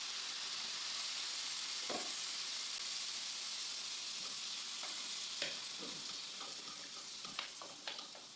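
Tomatoes hit a pan of cooking chicken, giving a steady broad sizzle with occasional spits and stirring scrapes, close and continuous, with no talking.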